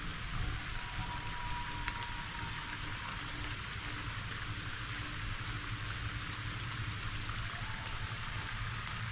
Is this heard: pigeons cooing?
no